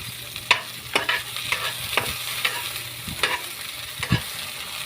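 Onions and garlic fry in a pan with a soft, steady sizzle, while a utensil scrapes and stirs in regular strokes about once a second, close by.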